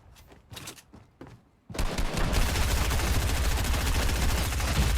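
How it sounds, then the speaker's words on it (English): Rapid gunfire from a Fortnite match erupts loud and sustained after a few quieter scattered shots, forming a dense continuous barrage through most of the stretch. "Who's shooting at me?"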